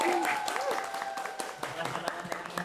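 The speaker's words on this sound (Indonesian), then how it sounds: "tepuk tangan" Applause from a student audience at a campus Q&A session, light scattered clapping under talk and background tones, fairly close and moderately loud.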